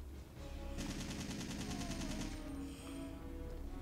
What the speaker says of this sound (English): Actually, I didn't really have to shoot him